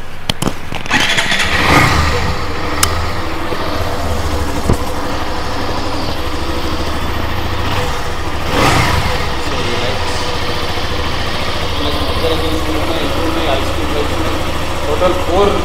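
A 2024 Hero Xtreme 125R motorcycle engine starts up and settles into a steady idle, close and loud, with a sharp rev near the start and another swell partway through; faint talk may sit underneath.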